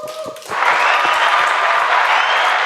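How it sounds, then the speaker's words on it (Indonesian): A studio audience breaks into applause for the production crew after a brief moment of talk, the clapping rising quickly and holding as a steady, fairly loud wash. "Buat tepuk tangan dulu buat anak-anak produksi."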